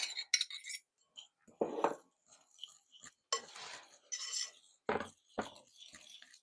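Fork scraping and clinking against a bowl while butter is worked into a dessert crust mixture until sandy, in short intermittent bursts of rasping and tapping, close and fairly quiet, with no talking.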